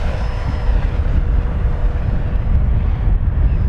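FMS Corsair 1700mm RC model airplane on 8S power flying in heavy wind, a steady loud roar of motor and wind rush throughout with no talk.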